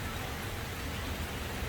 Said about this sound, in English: it is a complete downpour